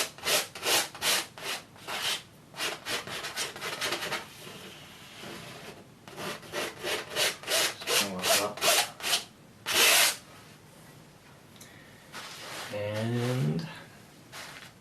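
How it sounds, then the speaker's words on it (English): Oil paint is scraped off a canvas in a wet-on-wet landscape painting, with a series of close, rhythmic rasping strokes in quick bursts, some longer sweeps and brief pauses between them. "Scrape off the excess paint."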